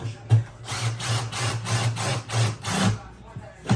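A power drill drives screws in a series of rapid bursts while mounting an above-stove microwave, rising and falling in a steady rhythm, close by.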